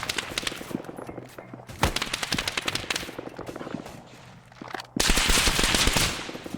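A machine gun fires in Arma 3 in long, rapid, close bursts, with a sharp crack, a lull, then a louder sustained stream of shots.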